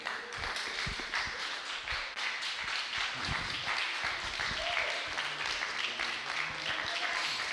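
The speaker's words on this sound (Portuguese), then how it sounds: "aplaudir ao Senhor." Church congregation standing to applaud during an evening Bible study service, a steady, moderately quiet patter of many hands clapping throughout, with faint murmuring voices underneath.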